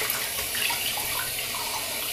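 A bathroom tap runs in a steady, continuous rush while hands are rinsed after a wet shave, the water close and even throughout with no talking.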